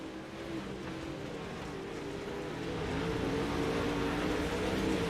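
Dirt late model race cars roar around the Fairbury dirt track in a heat race, a steady, dense engine drone that swells slightly louder midway as the pack passes.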